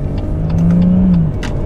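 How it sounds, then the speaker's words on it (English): A BMW M140i exhaust burbles from the back of the car while driving, a steady, fairly loud engine drone with a tone that swells and eases over about a second and a half. "Hear the burbles out the back there."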